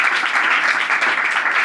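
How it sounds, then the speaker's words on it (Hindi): Church congregation claps loudly and energetically in a dense, sustained burst of applause that fills the room with no pauses. "जोरदार तालियां बजाएं यीशु नाम के लिए।"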